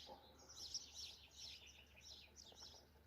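Soft, high bird chirps twitter continuously outdoors, faint and somewhat distant, with no one speaking.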